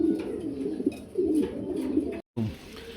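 A male pigeon coos close by in repeated low, throaty rolling phrases, with a brief gap before one more coo.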